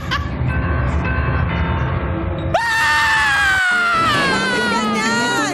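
A loud, drawn-out high-pitched scream bursts in after a stretch of busy background noise, wavering and strained, with other voices faintly present.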